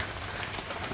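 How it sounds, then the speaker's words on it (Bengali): Raindrops patter steadily on surfaces outdoors in a village under a darkened sky, a brief, even, fairly loud rain texture with no voices. "বৃষ্টি ফোটা পড়তেছে। আকাশ অন্ধকার হয়ে গেছে"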